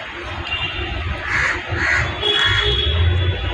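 Crows caw repeatedly in a few separate bursts, moderately close, over a low rumbling background.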